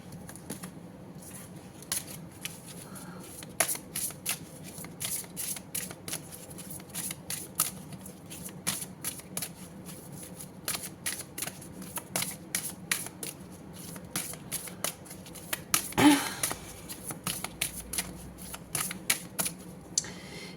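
A deck of tarot-style cards shuffled by hand at a reading, with rapid crisp riffles and slaps in uneven bursts, close and fairly loud, continuing for a long stretch with one heavier flurry near the end.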